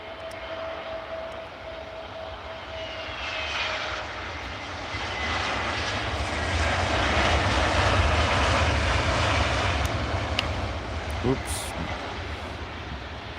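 Airliner landing at Edinburgh Airport, a steady broad jet engine roar that swells and peaks mid-pass before easing off, heard from nearby with brief talk underneath.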